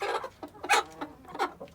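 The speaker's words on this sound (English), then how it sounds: "Got most of the chickens all up on the nest now." Chickens settling on the nest at dusk cluck in short, close bursts, several soft calls overlapping with a few louder squawks in quick succession.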